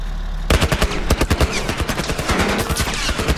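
Rapid automatic gunfire from The Last of Us Remastered, a dense burst of sharp, loud shots bursting in after a brief quiet start and continuing steadily to the end, with no talk.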